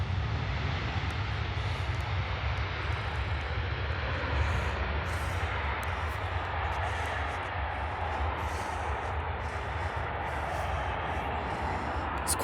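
A Ryanair airliner roars continuously at Stansted airport, a broad steady rumble of jet engines with a hissing upper wash that holds at a constant loud level throughout.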